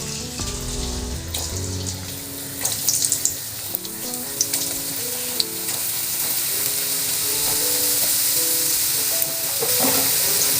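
Potato slices deep frying in hot oil in a kadai, a steady broadband sizzle and crackle that holds throughout with a faint tonal melody playing underneath, no talking.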